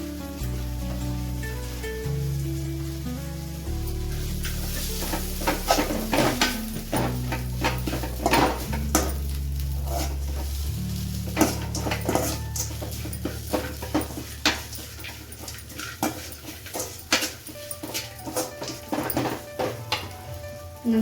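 Okra tossed into a pan for a Kannada-style okra palya, with a steady sizzle under repeated scraping and stirring clatter of a utensil against the pan, close and fairly loud throughout.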